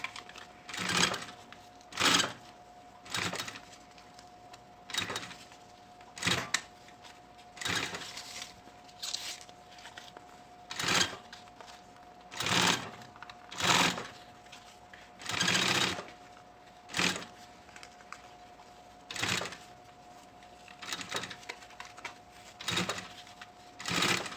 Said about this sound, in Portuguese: fica bem mais fácil a costura do viés